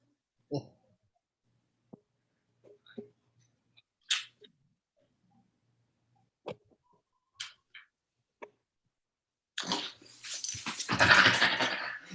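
A dog makes scattered short whimpers and whines, separated by quiet gaps, with a louder burst of breathy, snuffling noise near the end.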